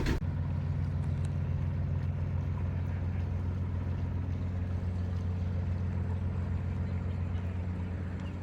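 A boat engine drones in a steady, loud, low hum as the vessel sets off from the dock at Friday Harbor.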